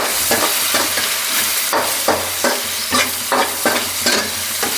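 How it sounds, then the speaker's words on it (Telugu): Okra and dried fish curry stirred in a pan with a spoon, giving repeated scraping strokes in an even rhythm over a continuous sizzle, close and loud. "వేసి ఇంకొకసారి కలుపుకుందామండి"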